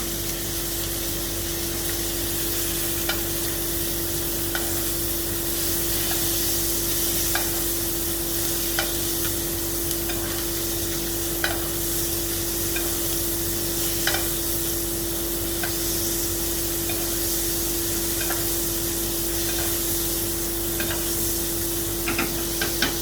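Sirloin steak searing in butter in a hot pan, a loud continuous sizzle and hiss with faint spits and crackles running throughout.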